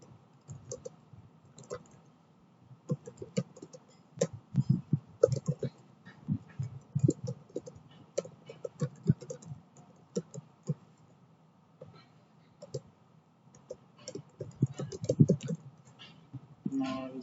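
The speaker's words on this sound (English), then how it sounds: "Now I will type here test" Keys clicking in irregular bursts on a computer keyboard, close and moderately quiet, with short pauses between runs of keystrokes and no talking.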